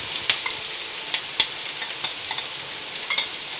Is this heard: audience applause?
no